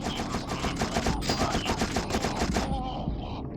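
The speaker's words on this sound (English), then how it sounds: "Are they shooting at me?" Rapid automatic gunfire from the shooter game You Are Empty rattles in dense, continuous bursts for most of the moment, then cuts off abruptly into quiet.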